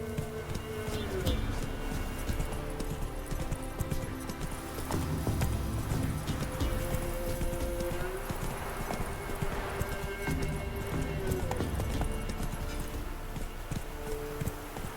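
Horse hooves clip-clop at a quick gallop in the Witcher 3 video game, a loud, dense run of close hoofbeats with a brief whinny, set over a steady game soundscape and a low drone.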